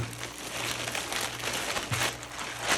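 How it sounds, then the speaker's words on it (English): Plastic shipping bag holding a pair of Levi's Premium Selvedge 501 Slim Taper jeans torn open by hand, a close, steady crinkling and rustling with a few sharper rips, no talking over it. "We'll just tear you open here. There we go. Rip that open there."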